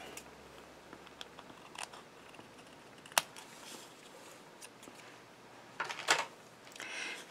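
Scissors trimming a clear transparency sheet for a handmade card: a few faint, isolated snips and clicks over a quiet room hiss, close to the listener, with no speech.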